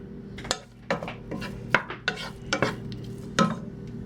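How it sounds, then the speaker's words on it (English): Spam browning in a frying pan, heard as a steady low sizzle under repeated scraping and stirring clatter from a utensil against the pan, close and irregular, with no talking. "You're basically just browning the Spam because it's already pre-cooked"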